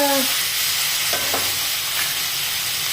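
Boiled peas sautéing in a pan for a vegetable dish made without onion, a loud, dense hiss of frying, continuous and close, with a couple of faint utensil knocks.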